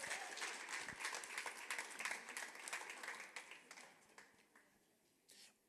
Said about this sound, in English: let's welcome him and give him a round of applause.